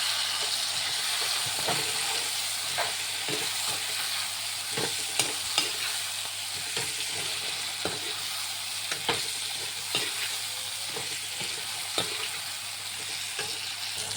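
Meat fries in a pan with a constant bright hiss of sizzling fat, punctuated by regular sharp taps and scrapes as it is stirred, close-up and steady throughout without speech.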